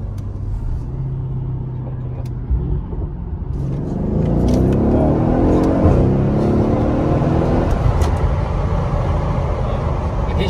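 Mercedes CLS63S V8 engine revving hard in sport plus mode, a deep loud rumbling roar that swells and holds, with a person talking faintly beneath.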